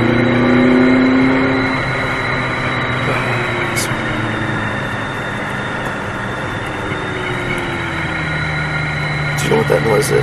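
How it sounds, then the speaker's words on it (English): Steady broadband rushing of wind buffeting through the open window of a 2016 McLaren 570S Coupe, with engine hum beneath and a couple of brief clicks. "Do you know what that noise is? That's the wind coming through."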